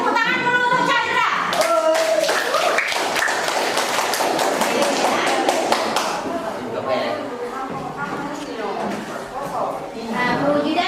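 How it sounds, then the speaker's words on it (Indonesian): Classroom applause for a student named Chandra during a civics lesson, with a burst of sharp claps mixed with loud voices, fading slightly midway and then continuing under chatter. "tepuk tangan dulu untuk Chandra"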